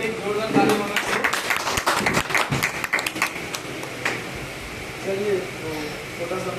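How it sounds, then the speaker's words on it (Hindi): Audience at a Vestige business opportunity seminar breaking into loud applause, dense clapping that swells and then thins out into a softer patter, with some voices mixed in. "मैं चाहता हूँ सर के लिए एक जोरदार ताली होना चाहिए"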